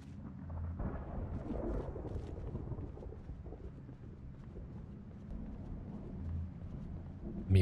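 Thunder from a lightning storm in Project Zomboid, a long low rumble rolling steadily under wind-like noise, fairly faint and distant, with a sharper burst at the very end.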